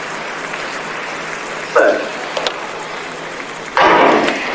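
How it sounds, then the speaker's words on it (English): A stadium crowd at the Commonwealth Games murmurs and cheers before a women's 200 metres semi-final, with a steady broad roar and two louder swells of cheering. "despite a bit more crowd noise"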